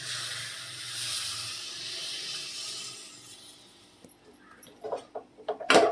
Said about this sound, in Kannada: ಇದನ್ನೆಲ್ಲ ಸ್ವಲ್ಪ ಫ್ರೈ ಮಾಡ್ಕೊಂಡು ಆಗಿದ ತಕ್ಷಣನೇ ಸ್ವಲ್ಪ ಹುಣಸೆ ಹುಳಿನ ಹಾಕ್ಕೊಳ್ಳಿ